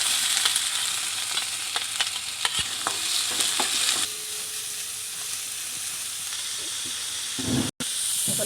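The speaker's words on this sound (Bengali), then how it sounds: "এখন আমার পেঁয়াজটা ভাজা হয়ে গেছে" Onions fry in mustard oil in a kadai with a loud, steady sizzle and hiss; sharp stirring scrapes come in the first half, then the sizzle settles into a quieter, even hiss.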